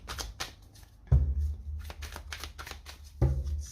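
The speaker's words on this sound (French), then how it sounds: "Allez, on va poser nos cartes." Tarot cards are shuffled and slapped down onto a table, a close papery riffle with two firmer thumps as cards land, fairly quiet with no talking.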